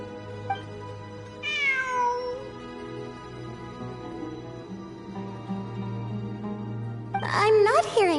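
A cat meows in the video game Genshin Impact: a single drawn-out meow, then a louder burst of overlapping meows near the end, over steady in-game background hum.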